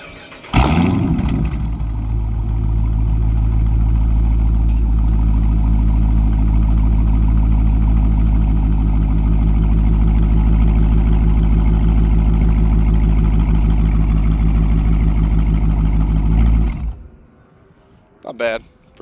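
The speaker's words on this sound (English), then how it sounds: "I'll start it up for you guys so you can hear it." A Dodge Charger Daytona cranks and fires into a deep, loud, steady idle rumble that holds for about fifteen seconds before shutting off, heard close by.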